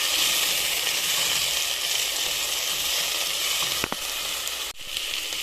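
Onions and tomatoes frying in a pan for a Kenyan dish, a dense steady sizzle that goes on throughout, close to the listener, with a spoon scraping briefly now and then.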